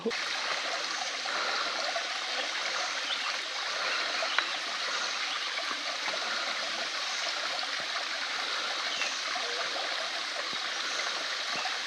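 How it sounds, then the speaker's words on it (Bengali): A rushing stream and waterfall at the first step of the Napittachora trail give a dense, unbroken roar of water throughout, close and steady with no voices. "নাপিতা ঝর্ণার প্রথম স্টেপটাতে আসলাম"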